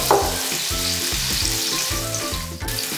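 Chicken varattiyathu masala is sautéed in a pan, giving a loud, continuous close-up sizzle with a regular rhythm of stirring strokes.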